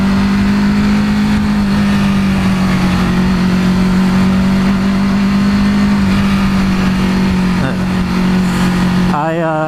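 An EBR 1190RX motorcycle engine pulls in first gear with a loud, steady, buzzing drone of engine harmonics that holds for several seconds, then breaks off into a brief rising whine at the end.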